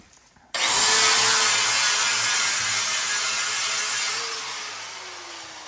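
A power tool deburrs metal truck body mounts, starting abruptly into a loud, continuous high grinding hiss that holds steady for several seconds before easing slightly in pitch and volume, close by and without talk.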